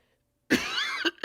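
A man coughs close and fairly loud, one harsh drawn-out cough followed by two short sharp coughs, after a moment of near silence.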